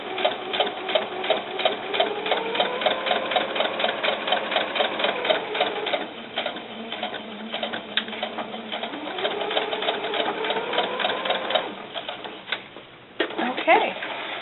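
Sewing machine stitching the lining of doll snakeskin boots: steady close whirring and rapid needle chatter running almost continuously, with brief pauses and changes of pace as the stitching backs up and goes forward.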